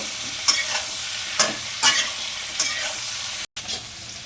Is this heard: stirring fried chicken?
yes